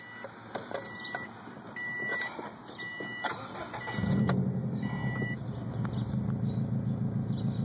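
A Subaru WRX with full exhaust starts amid dashboard warning beeps, then settles into a steady, rumbling idle, close and fairly loud.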